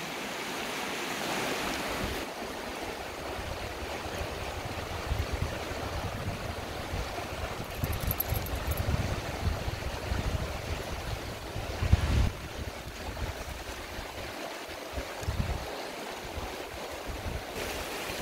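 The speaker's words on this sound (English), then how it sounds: "I think where that water splashing is another hot spring" Water splashing and rushing at a hot spring along a river, a steady broadband wash that carries on without a break, heard alongside wind buffeting the microphone.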